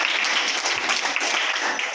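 Students in a class 6 to 8 school quiz competition are applauded, a dense, steady burst of clapping from a room of pupils that holds at full volume for about two seconds.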